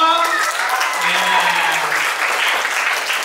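Lively audience applause fills a room at an inspirational talk event, dense steady clapping from many hands holding at an even level, with a faint voice briefly audible over it.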